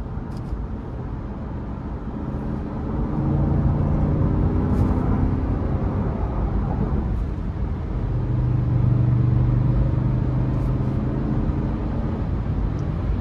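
Engine of a 2012 Lexus GX 460 4WD hums from inside the cabin while driving, a steady low rumble rising in pitch and easing as the automatic transmission shifts gears smoothly.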